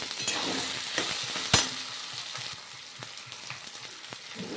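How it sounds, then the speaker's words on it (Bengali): Ground spices fry and are stirred in a pan for a traditional Bengali fish-head muri ghonto, a crackling sizzle broken by scraping spatula strokes and one louder clatter, fading slightly toward the end. "ভালো করে মশলা কষিয়ে নেব"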